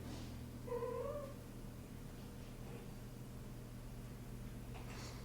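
A cat meows indoors, one short, clear call near the start over a steady low background hum, then quiet.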